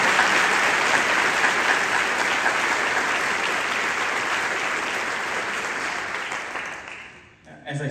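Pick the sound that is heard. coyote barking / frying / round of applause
round of applause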